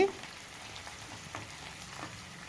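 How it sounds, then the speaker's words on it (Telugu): Onion, tomato, green chillies and curry leaves frying in a pan for a Telangana mutton curry, a faint continuous sizzle with light stirring, quiet and close. "ఒక ఉల్లిపాయ ఒక టమాటో ఒక రెండు పచ్చిమిర్చి తర్వాత వచ్చేసి కొద్దిగా కరివేపాకు అనమాట దీన్ని బాగా ఫ్రై చేసుకోవాలి"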